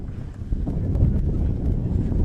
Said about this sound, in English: Big gust of wind here.